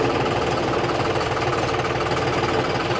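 A John Deere tractor's diesel engine idles close by, a loud, continuous knocking rumble with a steady, fast rhythm and no talking.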